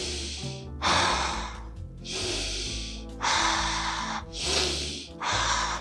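Nasal breathing through an anti-snoring insert fitted in the nostrils: a few long, loud breathy inhales and exhales come close to the mic, with short pauses between them and no talking.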